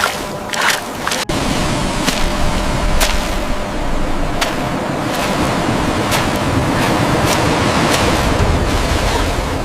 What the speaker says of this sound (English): The water churns violently, the wind rises.